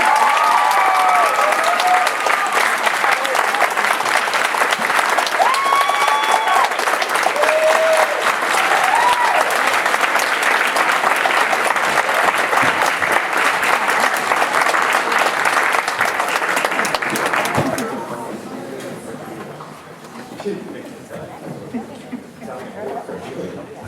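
An audience at a volunteer gala gives sustained, loud applause for an award winner for about eighteen seconds, with scattered cheers and whistles mixed in, before the clapping fades into murmuring and a voice begins speaking.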